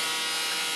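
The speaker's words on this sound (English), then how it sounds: "this vibrating toothbrush is actually working quite well to get it everywhere I want it to be" A vibrating toothbrush buzzes steadily while spreading epoxy during a repair of a HobbyZone Mini Super Cub model plane, giving a close, loud, continuous electric drone.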